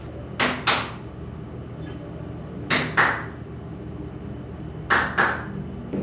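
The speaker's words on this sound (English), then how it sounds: "I'm gonna close the door this time of the bathroom." A bathroom door swinging shut in three separate bursts, each a pair of sharp knocks or thuds a moment apart, fairly loud and close with quiet room tone between them.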